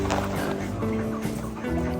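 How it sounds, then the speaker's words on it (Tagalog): Rhode Island Red chickens and ducks on a free-range farm cluck and squawk close by in a continuous dense chorus, with a low engine-like hum underneath. "Yan tayong Rhode Island Red. Yan yung Rhode Island Red natin."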